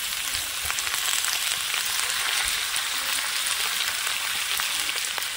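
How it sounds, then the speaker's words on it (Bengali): Green jackfruit with turmeric frying in a pan gives a steady, close, dense sizzle with small crackles throughout and no talking. "এখন এঁচোড়টা ভালোভাবে ভেজে নেব।"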